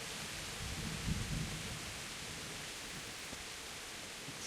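Steady rain falling in the medieval game world of Kingdom Come: Deliverance, a constant even hiss of downpour with a brief low rumble near the start, heard alone without speech.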